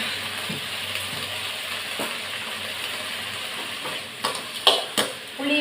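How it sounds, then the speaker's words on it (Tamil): Tamarind, salt and spices sauté in oil in a pan while making paruppu rasam, giving a soft steady sizzle with a few sharp clinks and stirring scrapes toward the end. "இதில் எண்ணெய் ஊற்றி தான் நான் வதக்குறேன்."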